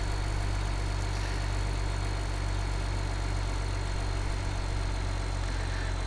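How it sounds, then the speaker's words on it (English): Tractor engine idling steadily in Farming Simulator 17, a constant low droning rumble with no change in pitch or level, heard alone without talk. "a neat sounding, nice riding tractor"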